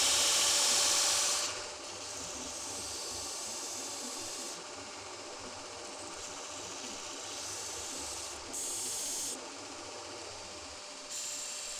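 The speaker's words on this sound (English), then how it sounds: "Now I'll be sanding this piece down to size." Steady abrasive sanding of a wooden wedge for a hammer handle, a continuous rough hiss with a low motor hum beneath, fairly close and even throughout.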